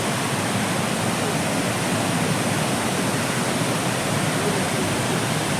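Courtallam waterfall swollen after heavy rain roars as a dense, steady rush of falling water, loud and unbroken throughout with no voices.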